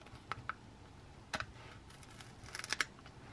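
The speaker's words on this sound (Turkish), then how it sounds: "Sürpriz yumurtamızı hemen açıyorum" A plastic Kinder Joy surprise egg is pried open with a few sharp, close clicks and crackles in scattered bursts, the loudest cluster near the end, with no talking.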